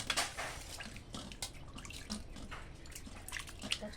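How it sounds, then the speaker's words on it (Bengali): Puti fish being rinsed by hand in a basin of water, with soft splashes and drips repeating unevenly, close and fairly quiet against a steady background. "এবারে এই পুঁটি মাছগুলোকেও ধুয়ে নেব ভালো করে।"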